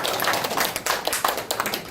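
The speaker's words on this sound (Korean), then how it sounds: "다시 한번 큰 박수 부탁드리겠습니다" Loud, close applause from a local audience celebrating election winners at a community meeting, a dense steady clatter of many hands clapping at once with no talk over it.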